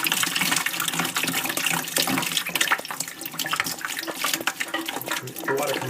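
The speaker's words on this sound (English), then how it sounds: "Here's where the rest of the water comes out of the tank." Clean water gushes steadily out of a toilet tank while a fill valve is being repaired, a loud, continuous splashing flow like a running tap.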